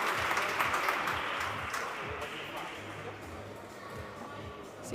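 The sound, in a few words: audience applause at a padel tournament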